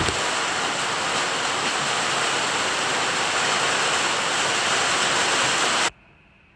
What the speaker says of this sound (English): So I'll drain off the water, measure it again.